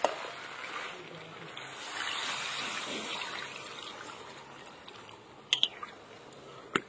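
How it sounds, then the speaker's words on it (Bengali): Hot water poured into a pot of browned, spiced duck curry cooking village-style over a winter fire, a steady broad gush lasting several seconds, easing off, then a couple of sharp splashy clinks near the end. "তো এবার আমি গরম জল দিয়ে দেবো"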